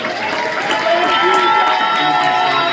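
Audience at a folk concert in The Grey Eagle, Asheville, claps and cheers in a sustained, loud burst of applause with mixed shouts, filling the room evenly.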